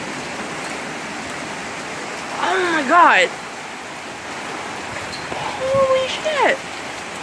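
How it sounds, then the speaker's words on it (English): A heavy rain downpour from a sudden thunderstorm pours down as a constant loud hiss. A person's startled exclamations briefly rise over it twice. "we haven't had this much downpour in forever"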